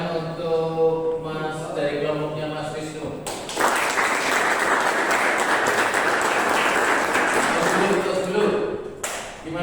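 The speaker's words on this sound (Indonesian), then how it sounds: "tepuk tangan untuk Mas dari kelompoknya Mas Wisnu." Classroom applause for a student group after their presentation in a history lesson, a dense burst of clapping lasting several seconds that follows a woman's speech and fades as talking resumes.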